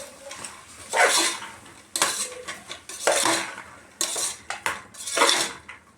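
A spoon scrapes and clinks against a pan in repeated strokes while potatoes, onions and field beans fry, with only a faint sizzle underneath.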